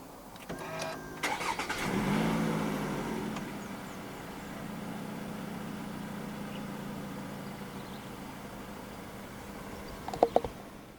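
A 2017 Toyota Alphard 2.5 2WD minivan started by push button: a brief starter whir, then a quiet, steady idle that settles low and smooth, heard alone with a couple of small clicks near the end.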